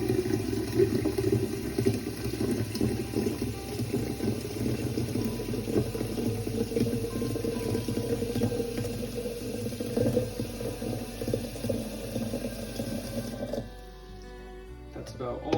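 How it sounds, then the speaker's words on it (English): A kettle being filled from a tap with water poured over vinegar already inside, a steady close rushing splash that runs continuously for about thirteen seconds and then cuts off abruptly, leaving quieter room noise. "Now I will fill the rest with water."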